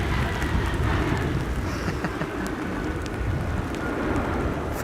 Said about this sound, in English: before the rain starts to fall really hard